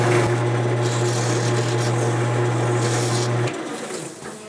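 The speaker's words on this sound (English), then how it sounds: "I'm gonna do one more pass with 600 grit sandpaper." A wooden burl bowl spins on a lathe while 600 grit sandpaper works its surface: a steady motor hum under a close, even rubbing hiss, which cuts off near the end and leaves a quieter room tone.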